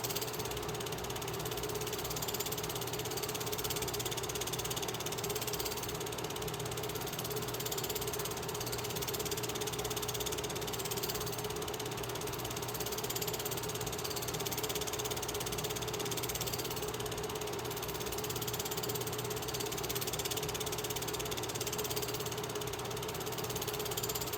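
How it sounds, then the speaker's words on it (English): Steam locomotive 2839 creeping slowly around a curve just off the K&I Bridge, giving a steady mechanical clanking and ratcheting rumble with a constant low drone, close and continuous throughout. "Steam engine's making its way slowly around the curve."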